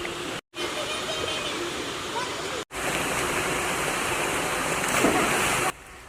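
Water of the Wai Ngambur river flowing at a rural village water source, a steady rushing roar broken by two brief gaps, with voices talking over it.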